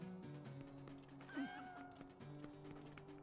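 A cat meows in Legend of Zelda: Twilight Princess HD, one short rising-and-falling call at moderate level over steady game music and ambient tones, with no talking.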